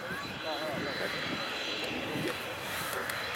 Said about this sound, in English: Just waiting to get takeoff clearance then, the Yakovlev Yak-130 here.